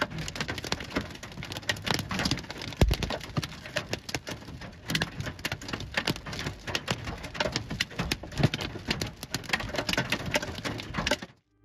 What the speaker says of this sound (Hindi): टेक्सास में एक और भयानक ओला तूफान आया